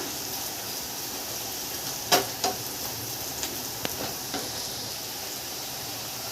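Carrot and onion frying in a little oil in a pan while making breakfast from leftover rice, giving a steady soft sizzling hiss with a few faint clicks and taps from stirring.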